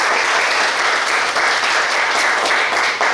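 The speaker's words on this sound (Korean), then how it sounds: "박수." Sustained audience applause at a Korean Bible camp gathering, dense and steady throughout, a large group clapping together with no voices standing out.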